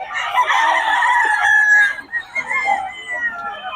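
Chickens and roosters at a gamefowl farm in Bocaue give a loud, drawn-out crow up close, followed by shorter clucks and calls from the flock.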